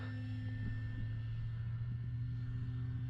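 An E-flite Carbon Z Cub SS electric RC plane flies by slowly with landing flaps down, a steady faint droning hum with no clear rise or fall.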